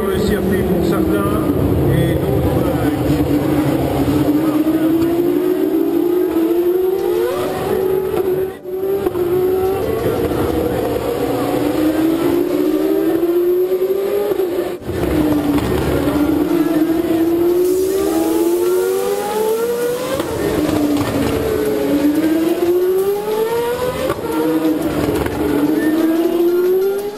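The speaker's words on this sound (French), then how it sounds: "Donc on vous laisse profiter de la mélodie du son atmosphérique du V8 des GP2." GP2 race cars with naturally aspirated V8 engines screaming past at Monaco during practice: loud, repeated rising and falling engine wails as cars approach and pass, with a constant engine roar underneath.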